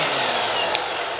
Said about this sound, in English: this is the Ego in speed 1